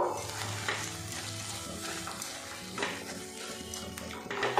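Fried chillies being stirred and mashed into green tomato mash, with steady scraping and stirring against the pan under a faint background sizzle, close and continuous with no talking.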